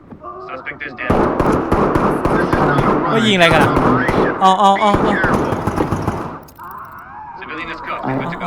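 A flashbang grenade detonates in the tactical shooter Ready or Not amid a loud, dense barrage of blasts and gunfire-like cracks, with voices talking over the chaos.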